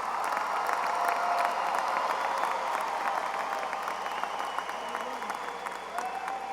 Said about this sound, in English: Let's give them and all our graduates a round of applause.